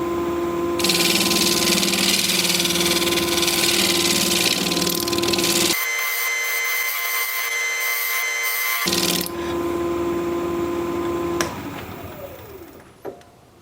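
Wood on a lathe being shear scraped with a standard grind gouge, a loud continuous scraping whir with a steady motor hum, a short drop in the scraping midway, then the spindle winding down.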